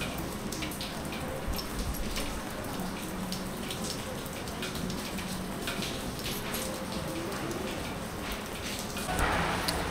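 Steady rain pours outside during a Lakshmi Puja evening, a dense continuous hiss of drops on surfaces filling the scene without letup.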